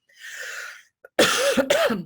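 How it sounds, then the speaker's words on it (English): A single harsh cough, followed after a short pause by a breath and a couple of rough throat-clearing coughs, close and fairly loud. "I too have a cough"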